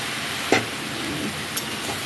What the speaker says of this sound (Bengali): একদিকে শাকটাকে বসিয়ে দিয়েছি আর একদিকে মাছের মাথাগুলো বসিয়ে দিয়েছি ভেজে নিই